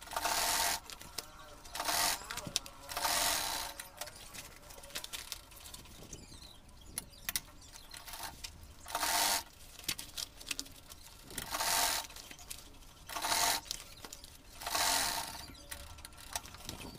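A sewing machine stitches Ankara fabric for a tote bag in repeated loud bursts of rapid mechanical whirring, separated by quieter pauses with light handling clicks and no speech.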